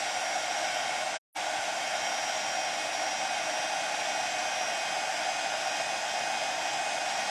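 Hot air tool heating WoodUBend, blowing with a close, steady roar that cuts out for a split second early on and then carries on evenly.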